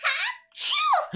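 A single sharp sneeze from a Roblox Livetopia game bursts out in two quick parts, a breathy intake and a loud release, close and clear.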